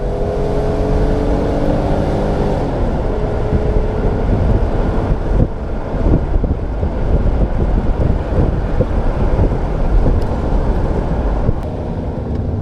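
A Smart ForTwo accelerates at full throttle with a kick-down, its engine note climbing under heavy wind and road roar, loud and close from inside the car.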